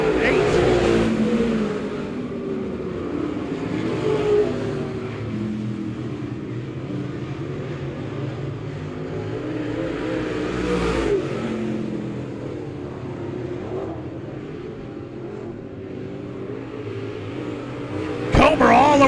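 Dirt track race cars lapping at Monett Raceway during a mystery night event, engines roaring and revving in a steady rumble that swells and fades as cars pass, with an announcer talking throughout.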